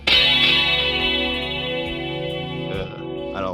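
Chorus-effect electric guitar rings out in sustained, shimmering chords that slowly decay, heard alone at moderate loudness.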